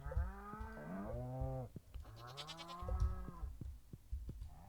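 Cows mooing in the Stardew Valley farming game, several long drawn-out moos one after another, loud and close, with no talk over them.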